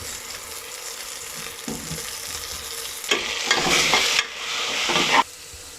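Coriander and mint leaves sautéing in a pan for a Tamil-style jeera pulao, with steady sizzling and frying plus stirring scrapes that swell into two louder bursts toward the end, no talking.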